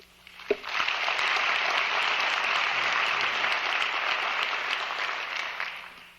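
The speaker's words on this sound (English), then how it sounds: "Maybe we had better hold our applause until I have finished this rather long list." An audience at a Johns Hopkins School of Medicine convocation gives a sustained round of applause that swells quickly after a single sharp clap and holds dense and steady throughout, with no speech.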